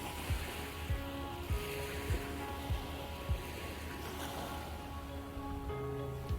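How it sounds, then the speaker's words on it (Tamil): Ocean waves and wind at a Maldives beach villa at sunrise: soft, steady surf wash with gentle rhythmic swells and a low wind rush, fairly faint and distant, with no talking. "அதுவும் அந்த மார்னிங் டைமில் வெறும் அலை சவுண்டு மட்டும்தான்"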